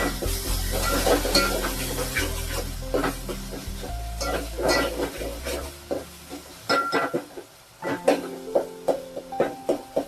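A spoon stirs asafoetida and fresh coriander into palak dal in a pan, giving scraping and clinking strokes over a soft sizzle, with louder, sharper taps near the end; no one speaks.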